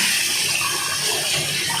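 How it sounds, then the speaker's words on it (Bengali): Running water rinses parts of a Pureit water filter kit, a steady broadband splashing rush that holds evenly for the whole short stretch with no talk. "এবার নতুন পিওরিট কিট লাগানোর আগে আমরা এগুলো একটু ধুয়ে নেব, কারণ এতে ক্ষুদ্র পাথরকণা থাকে।"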